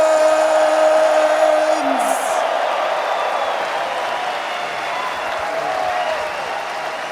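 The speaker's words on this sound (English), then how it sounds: "make one more round of applause" A large esports crowd applauds loudly and continuously at the Dota 2 International grand final, a dense wash of clapping and cheering that fades slightly but keeps going throughout.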